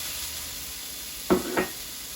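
Onions and vegetables cooking in a pan for an omelette, a faint steady sizzle interrupted by two brief utensil knocks near the end.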